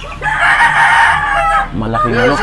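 A big fighting rooster crows loudly up close, a long sustained call followed by the start of another, with a voice speaking faintly underneath.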